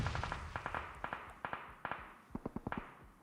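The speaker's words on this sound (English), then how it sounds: "Ooh, a couple of pot shots." PUBG Mobile gunfire comes as bursts of sharp shots in quick clusters, moderately distant and echoing over a noisy battlefield background during an esports match.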